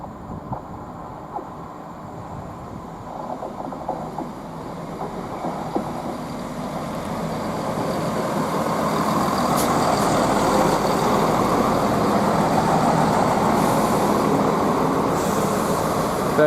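A Chiltern Class 168 diesel unit, 168003 in new livery, runs through Banbury station toward Marylebone. Its rumble builds from a distant murmur into a loud, sustained roar as it draws near and passes.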